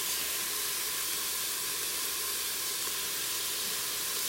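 Diced celery sautéing in an Instant Pot for a tomato basil Parmesan tortellini soup, a steady close hiss and sizzle that runs evenly throughout with no talk.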